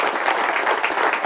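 Audience at a council gathering applauding, a dense steady burst of clapping from many hands, close and loud.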